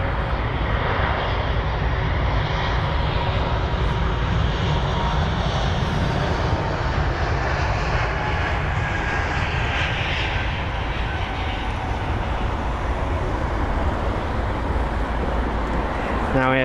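A one-year-old Airbus A220 jet moves at London Heathrow, its engines holding a steady, loud, broadband roar with a whining hum throughout.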